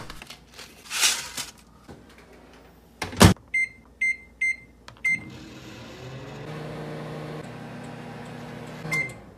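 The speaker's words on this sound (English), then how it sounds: "So it says to heat it up in the microwave for 55 seconds." A microwave oven heating dog popcorn: a door thump, four quick beeps as the buttons are pressed, and then a steady hum as it runs, all close by. A single beep sounds near the end.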